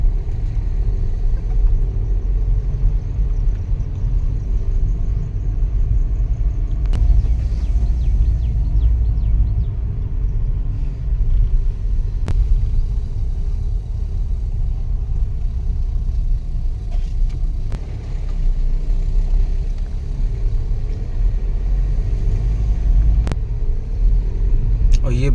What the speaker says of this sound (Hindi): देखो ये गाड़ी।